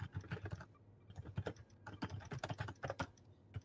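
Rapid, irregular clacking of keys on a computer keyboard, close and fairly quiet, with short pauses between bursts and no voices.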